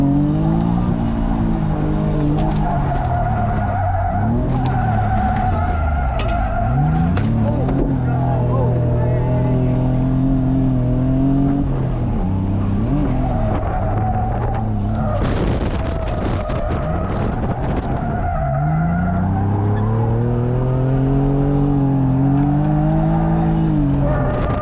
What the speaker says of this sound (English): This is the first time I'm in your car drifting.